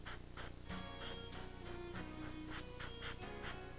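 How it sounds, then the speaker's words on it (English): An airbrush sprays paint onto a whitetail deer taxidermy mount, working around the nose, as a steady close hiss pulsing in short regular bursts over a low constant hum. "Try not to shoot paint into the nostril"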